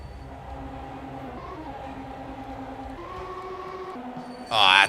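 Train moving in a video game: a steady rumbling hum with sustained tonal drones that shift pitch in steps, then a loud, bright burst of noise near the end.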